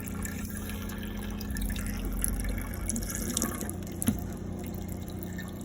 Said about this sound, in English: just come to your pump, your tap, sorry, and just pour the water through